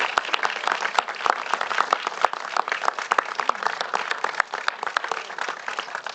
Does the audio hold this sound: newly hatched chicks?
no